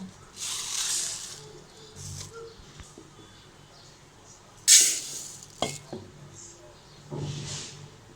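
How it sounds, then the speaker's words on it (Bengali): Dry rice measured out with a cup and poured in for almond pilaf (badam polao): a few soft, hissing pours, one brief sharp rattle midway, fairly faint and alone. "কাপ দিয়ে মেপে আমি চালটাকে দিব।"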